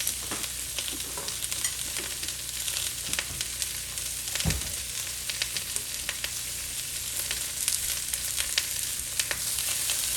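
Onions frying and sizzling in a pan for a tofu stir fry, a steady broadband crackle throughout with occasional stirring scrapes and a brief louder clatter midway.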